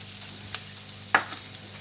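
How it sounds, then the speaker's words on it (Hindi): Almonds and pistachios frying in ghee, a soft steady sizzle broken by a couple of light stirring clicks, close and brief. "1 टेबल स्पून घी में हम अपने ये बादाम रोस्ट करेंगे। इसमें हम अपने पिस्ता भी शामिल कर देंगे।"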